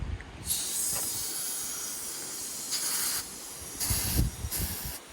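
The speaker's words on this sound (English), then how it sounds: "You can hear the air coming out." Bursts of high hissing air escape from the fuel tank of a 1992 Suzuki Super Carry mini truck in several pulses, steady and fairly loud, with short quieter gaps between them; a faulty valve lets it out.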